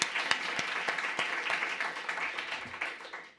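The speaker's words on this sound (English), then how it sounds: "A round of applause for Funda Nenja." Audience applause at a meeting introducing a development project, a crowd clapping at close range with a few sharp, distinct claps standing out, steady at first and then gradually fading away.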